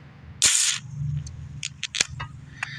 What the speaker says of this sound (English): when I crack open my can here